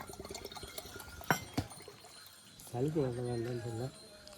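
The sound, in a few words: tender coconut water being poured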